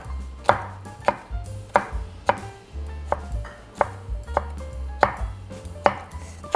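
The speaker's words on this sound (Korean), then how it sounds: "이렇게 해서 씨만 제거를 해서 이렇게 채 썰으셔도 괜찮습니다" Knife cutting cucumber into thin strips on a cutting board for japchae, a series of sharp, close chops in an uneven rhythm, about a dozen crisp strikes with no talking.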